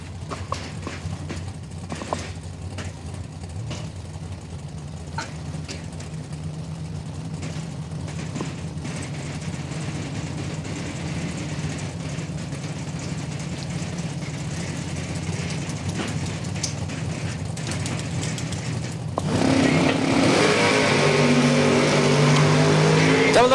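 Drag racing at a strip event, a Mustang against a 1968 Camaro: a steady engine rumble builds and then swells into a louder, rougher roar near the end, with a faint announcer's voice in the background.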